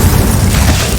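A Confringo blasting spell explodes in the Hogwarts Legacy video game, giving a single loud, low, rumbling boom that fills the whole second with no talk over it.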